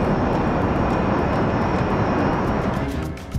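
A Learjet in flight gives a loud, steady jet-engine roar that holds nearly constant, dipping slightly near the end.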